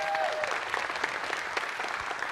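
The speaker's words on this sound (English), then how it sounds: "And keep the applause coming" An evening event audience applauds steadily, a broad, even wash of many hands clapping at moderate volume, with a brief voice or cheer near the start.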